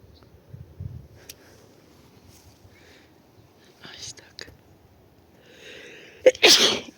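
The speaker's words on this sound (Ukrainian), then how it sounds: "Бачите, як я міг чихати?" A single sharp sneeze near the end, loud and close, after a few quiet breathy sounds and faint background noise.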